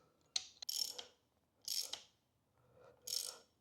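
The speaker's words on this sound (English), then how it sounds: "now we're going to hold the top nut while we tighten it" A ratcheting tool tightens the top cap nut of a Ducati motorcycle fork in three short bursts of crisp metallic clicking. The bursts are separated by pauses and sound close and quiet.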